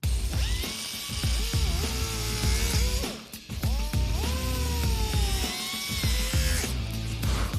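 A high-pitched rotary tool whines as it cuts material out of a Buick gauge panel, its pitch bending and dipping under load in close, continuous passes, with one brief pause midway.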